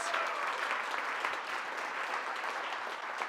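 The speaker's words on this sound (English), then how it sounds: "Round of applause, guys." Steady audience applause at a janitorial business talk, a dense, even wash of many hands clapping that holds at full strength throughout without a break.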